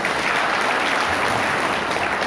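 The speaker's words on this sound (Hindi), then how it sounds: "ताली बजा लो।" An audience at a live performance applauds with dense, continuous clapping that stays loud and even from start to finish.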